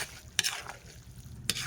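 Pork sisig being stirred in a pan on a food stall, with two brief scraping strokes of a utensil against the metal over a faint, steady frying hiss.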